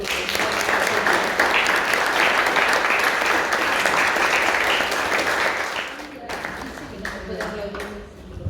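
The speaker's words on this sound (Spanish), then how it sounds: "Pues un aplauso para ti." A studio audience at a live talk program breaks into loud, dense applause that holds steady for several seconds, then thins to scattered claps as a voice briefly comes through near the end.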